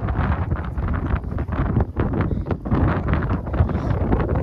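Strong wind on a hill trek batters the microphone in continuous loud, rumbling gusts, with no voices over it.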